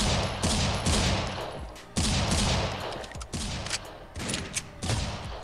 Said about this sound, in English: Gotta wallbang them now.